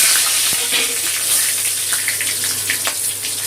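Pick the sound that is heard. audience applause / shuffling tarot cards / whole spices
whole spices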